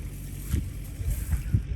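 A Kubota four-cylinder 60-horsepower turbo diesel engine on a tracked paddy tractor rumbles low and steady throughout, idling close by with slight pulsing and a faint breezy hiss over it.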